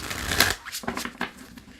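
Tarot cards are shuffled in a few quick riffling bursts, crisp and close, with brief pauses between them.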